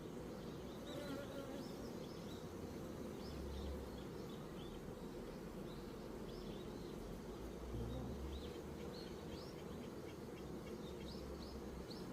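Honey bees buzzing continuously around an open beehive during hive inspection and winter preparation, a dense close drone with scattered higher buzzes over a low rumble, no voices.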